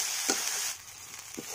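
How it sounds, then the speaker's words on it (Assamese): Ginger, garlic and green chili masala fries in a hot pan with oil, a bright steady sizzle broken by two quick stirring scrapes, close and alone. "মছলাখিনি দিলোঁ আদা নহৰু জলকীয়া এইখিনি অলপ ভাজিম মছলাৰ কেঁচা গন্ধটো নাযাকলৈকে"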